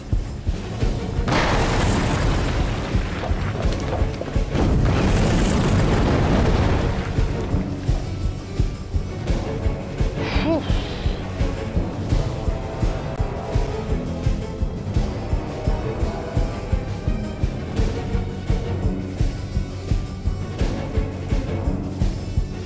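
Heavy explosions boom in the video game We Happy Few, with two big blasts in the first seven seconds followed by rumbling debris and a loud, sustained game soundscape of crackles and thuds.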